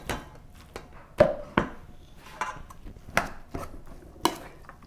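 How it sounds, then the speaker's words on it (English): Spoon stirring an onion stuffing filling mixture in a bowl, a series of separate scraping knocks and clacks at uneven intervals, close and fairly loud, with no voices. "I'm done stirring."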